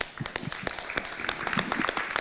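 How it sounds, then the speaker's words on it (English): Town hall audience at a meeting on pre-K to 12 education funding applauds, with scattered, moderately distant claps forming a steady patter throughout, fairly quiet, with no talk over it. "Give yourself a round of applause."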